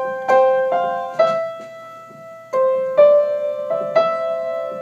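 Solo piano plays the slow intro of a song, single chords struck one after another with gentle sustain and short gaps between them.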